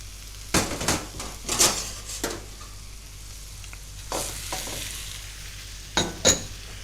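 Beef and pork mince sizzles steadily in a hot pan, with occasional scrapes and stirring clatters from a utensil punctuating the frying.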